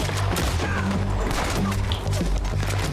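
Gunfire in the Red Dead Redemption 2 video game during a headshot, dense booming shots and impacts over loud game ambience and music, continuous and close.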